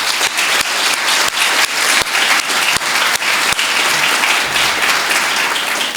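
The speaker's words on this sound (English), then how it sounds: "So let's have a round of applause for Jason and his team." An audience at a Junior Achievement 75th anniversary recognition breakfast applauds Jason and his team, loud sustained clapping filling the room for the full stretch with a few sharper claps standing out.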